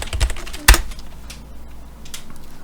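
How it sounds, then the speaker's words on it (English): Keys clatter on a computer keyboard in an editing setup, a quick burst of taps, one sharp louder key strike, then scattered lighter presses, close and alone. "hit 2 on the keyboard to bring that into our viewer"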